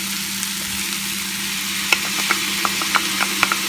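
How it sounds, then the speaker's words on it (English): Garlic and onions sizzle in a pan for a spicy turkey sausage soup, a steady frying hiss broken by a few sharp clicks and scrapes of stirring. "so keep it stirring. You don't want that garlic to burn."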